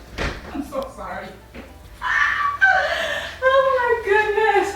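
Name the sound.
dog whimpering as it is let in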